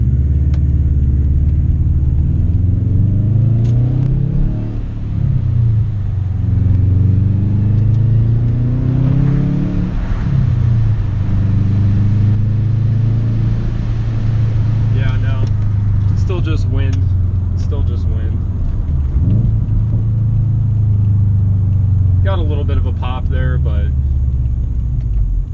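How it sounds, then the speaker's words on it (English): A straight-piped 2013 Subaru WRX engine rumbles loudly from inside the cabin, its deep exhaust note rising and falling with acceleration while a person talks over it. "you guys will be able to hear the exhaust a little bit better"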